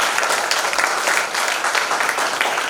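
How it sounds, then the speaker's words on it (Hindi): Loud, dense audience applause at a healthcare company's motivational seminar, filling the room steadily for its full length with no gaps. "एक बार जोरदार तालियां हो जाए।"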